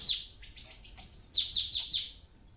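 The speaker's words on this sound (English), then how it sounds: "It's so peaceful, just with that clock ticking and the bird." A small bird gives a rapid series of high, bright chirps and trills, close and clear, in a quiet indoor setting. No ticking stands out under it.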